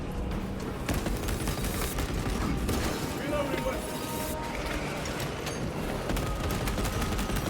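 Heavy rifle gunfire from Space Marine 2 in a dense, continuous battle din, steady loud bursts and booms layered under a player talking throughout.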